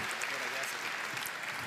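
An audience at an international women's award ceremony claps in a steady, even patter, fairly soft and brief, with no single claps standing out.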